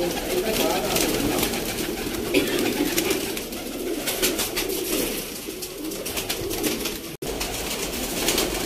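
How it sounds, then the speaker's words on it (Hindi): Pigeons of the Sialkoti Sadhna breed coo steadily, close and constant, with flapping of wings mixed in from birds flying overhead at an outdoor loft; someone talks over the flock. "जी दोस्तों कबूतर माशाल्लाह बहुत उड़ रहे ने, आवाज़ उन्होंने ज़्यादा आ रही होगी तुहानू"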